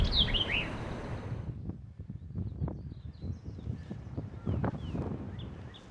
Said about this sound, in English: Eastern wood pewee with a white-eyed vireo singing behind it.